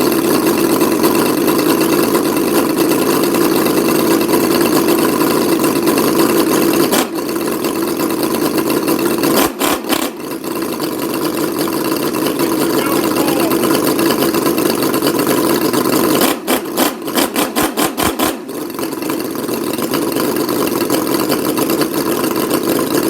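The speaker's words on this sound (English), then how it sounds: "So we're going to fire it up" A 78cc Enjomore V8 model engine runs loud and close with a constant buzzing drone, briefly stuttering and cutting out twice before picking back up.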